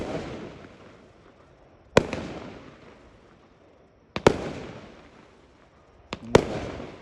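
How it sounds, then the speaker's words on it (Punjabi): Firecrackers burst with sharp loud bangs, three main blasts a couple of seconds apart, each trailed by crackling and echo, in sunny daylight. "ਸਾਰੇ ਪਟਾਕੇ ਮਾਰੋ"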